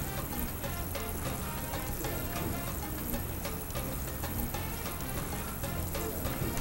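Calamari deep-frying in hot oil gives a dense, continuous crackling sizzle, close and steady throughout, with no talking.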